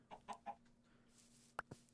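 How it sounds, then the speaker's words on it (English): Chicken clucking in Minecraft, three short soft clucks in a quick run, then two sharper, slightly louder clucks after a pause, with a faint steady hum beneath. "There's a chicken."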